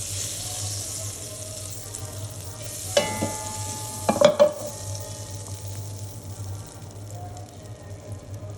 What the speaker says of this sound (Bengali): এখন এটাকে সামান্য একটু ফ্রাই করব